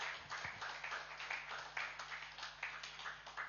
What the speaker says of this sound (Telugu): ఒకసారి ఈ మాస్టర్కి గట్టిగా చప్పట్లు కొడదాం